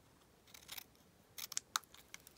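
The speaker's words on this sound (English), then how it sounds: "then just snip the end into a little banner" Scissors snip the end of a piece of card-making paper into a small banner, a quiet, close series of short crisp cuts in two bursts.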